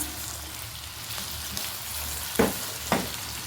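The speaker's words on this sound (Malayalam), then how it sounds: "ഇനി നന്നായിട്ടൊന്ന് ഇളക്കി കൊടുക്കാം" Steady sizzling in a hot pan as okra and brinjal curry is stirred with the gas turned off, with two short scraping clinks near the end.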